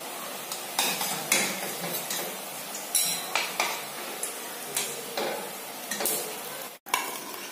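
Fried green banana koftas being lifted out of hot frying oil, with sizzling plus repeated scrapes and clinks of a slotted spoon against the pan, close and fairly loud, with no talking.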